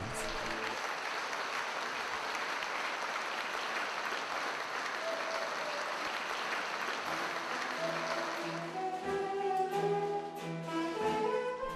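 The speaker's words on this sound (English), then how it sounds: "culminating in the excitement of an ensemble performance, spinning, dancing and singing to thunderous applause" An audience applauds a Polish folk dance ensemble performance in Melbourne, a dense wash of sustained clapping that fades after about eight seconds as a voice begins speaking over it.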